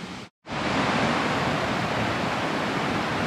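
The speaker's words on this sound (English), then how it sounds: "there's a waterfall here" Waterfall spilling over a beaver dam on a lake, a loud, steady broadband rush of falling water heard close up after a brief dropout at the start, with no talking.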